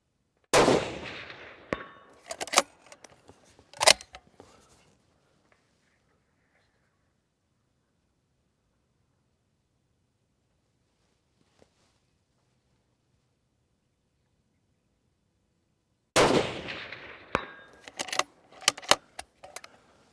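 At an outdoor shooting range, a firearm fires several sharp shots at a large target in quick succession, followed by a long near-silent pause and then another rapid cluster of loud, close reports.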